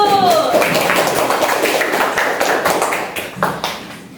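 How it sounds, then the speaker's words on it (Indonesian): Classroom applause for a group presentation, a dense patter of many hands clapping together at steady loudness before tapering off toward the end. "Tepuk tangan dulu"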